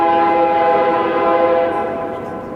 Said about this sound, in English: I'll pause while the train whistle's going off at the nearby tracks so you can hear me better